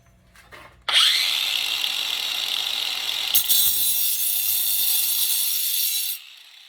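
A battery-powered cut-off wheel grinds off a screw head in a fastener repair lab, with a loud, sustained, high whine that starts abruptly, holds steady for about five seconds with a brief bump midway, then stops.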